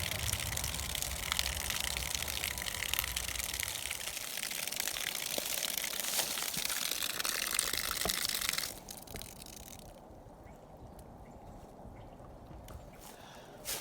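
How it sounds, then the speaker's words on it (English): Water gushing steadily out of a homemade bucket shower, a loud continuous splashing flow that cuts off abruptly partway through, leaving a quieter trickle and faint drips. "I'll let that drain out."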